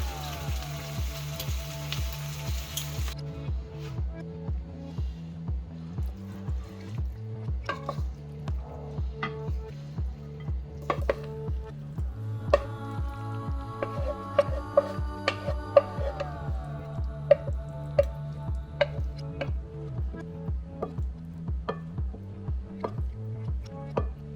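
A squid and potato fry-up sizzles softly in a pan as it is stirred, with faint crackles and wet squishing sounds under quiet background music.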